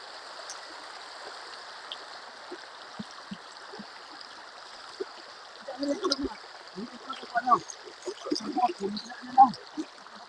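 A strong river current flows with a constant rushing hiss, while intermittent splashes and sloshing grow busier in the second half and people talk over the water.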